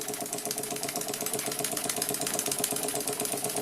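A circa-1900 Bassett-Lowke model steam engine on its first steam test, running with a fast, even chuffing beat and hiss, close and steady, with no talking.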